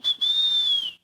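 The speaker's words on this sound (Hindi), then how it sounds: "बस सीटी कौन बजा रहे अभी?" A single sharp, high whistle blast lasts about a second, loud and close, with a tiny break just after it starts and a steady tone until it stops.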